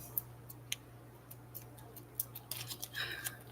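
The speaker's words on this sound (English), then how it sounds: "I'll just snip a little section so that" Small scissors snip a section of paper or craft material in a quiet room, giving a few faint, close clicks and crisp cuts that quicken toward the end over a low background hum.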